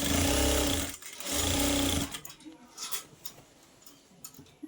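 A sewing machine stitches a collar in two loud, fast bursts with a short pause between, then stops, leaving light clicks and handling sounds.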